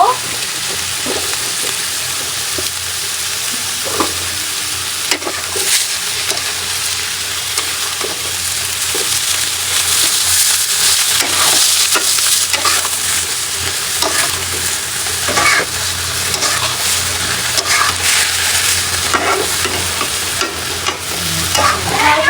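Eggplant frying in a pan with fish gives a long, steady, loud sizzle, with intermittent stirring scrapes and clinks and no clear talk.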